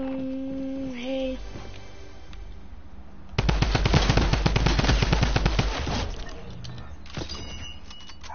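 Rifle gunfire in a video game comes as a fast, dense burst of sharp shots lasting a few seconds, loud and close, followed by a few scattered shots. Quieter voices and game sounds come before it.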